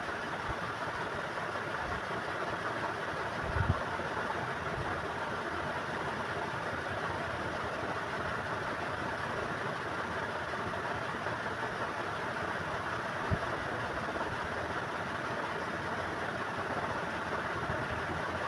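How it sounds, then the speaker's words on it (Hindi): A sewing machine stitches the side seam of a homemade girls' top, producing a steady continuous motor whir with faint mechanical rattle and a couple of small knocks, no talking. "ऐसे ही हम दूसरी साइड सिलाई कर लेंगे।"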